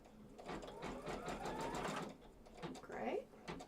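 A sewing machine runs in quick steady stitching bursts while sewing down a piece of a Courthouse Steps quilt block, with a person talking over it.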